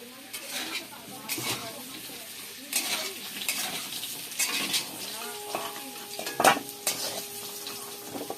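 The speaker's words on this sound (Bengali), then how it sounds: "আলুগুলো একটু লাল লাল করে ভেজে নেব" Potatoes frying in oil in a kadai sizzle steadily while a spatula scrapes and stirs in repeated strokes, with occasional metallic clinks of utensils against the pan.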